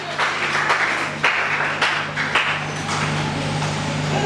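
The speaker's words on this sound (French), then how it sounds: "On acclame pour Jésus." A church congregation applauding for Jesus, a dense burst of many hands clapping that swells and fades in waves, loud and close.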